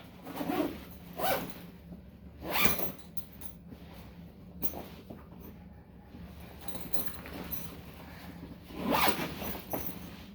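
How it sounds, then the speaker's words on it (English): Zipper being pulled shut on an empty Revgear Travel Locker gym bag, several short zipping strokes in bursts with pauses, close and fairly quiet, no talking. "I'm gonna zip it up and give you guys a good look at it one last time."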